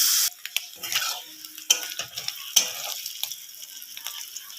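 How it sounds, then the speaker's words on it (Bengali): Gourd leaf paste seasoned with salt and turmeric fries in a pan while being stirred, producing a soft, crackling sizzle broken by scattered sharp ticks and utensil taps, close and fairly quiet. "নুন দিলাম হলুদ দিলাম দিয়ে একটু দিয়ে একটু নাড়াচাড়া করে ভালো করে ভেজে নিচ্ছি"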